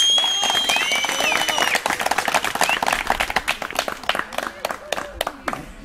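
Hand clapping from a crowd at a Mazda owners' meet in Veliko Tarnovo, 2015, applauding a car during an award announcement; sharp claps grow more distinct and sparse as it goes, with birdsong or whistles early and voices underneath.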